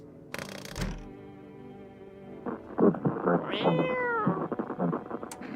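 A cat in a video game meows a few times, clear and close, amid small rustling noises, with a voice speaking briefly nearby.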